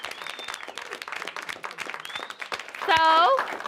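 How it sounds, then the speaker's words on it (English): A talk-show audience applauds guest actor Kel Mitchell, steady clapping mixed with voices and cheers, ending in a loud whoop or whistle-like shout near the close. "Let's give him a round of applause."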